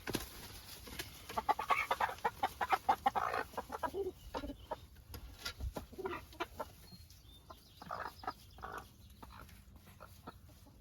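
Backyard Americana chickens cluck over a treat in a busy run of short, close clucks and squawks, dense at first and thinning toward the end, with no talking.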